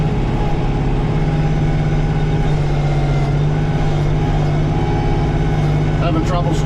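A tractor's engine drones loud and steady up close as its front-mounted snowblower churns through heavy wet snow, a constant low roar with a whining hum and no pauses.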